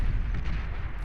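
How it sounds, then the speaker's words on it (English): Shell shocker artillery firing in the Beyond All Reason real-time strategy game, a dense rumble of booming shots packed into one second of continuous, loud low-end battle noise. "Shell shockers firing away wherever they can."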